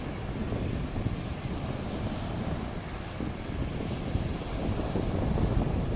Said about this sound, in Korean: 마치 우기 때 같이 굉장히 바람이 세고 파도가 굉장히 셉니다.